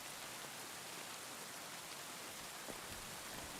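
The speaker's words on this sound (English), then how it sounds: "Yeah, and the rain isn't helping either." Rain in the video game Kingdom Come Deliverance 2, a steady, dense hiss of rainfall at low, even volume with no talk over it.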